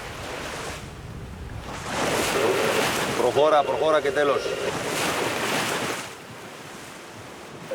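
Strong Meltem wind and rough waves on the Aegean Sea in the Cyclades, heard aboard a sailboat: a loud, continuous rush of wind buffeting the microphone with surging water, while someone speaks briefly partway through.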